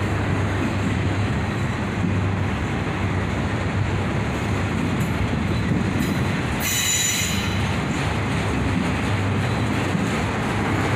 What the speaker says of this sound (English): This was a full auto rack train.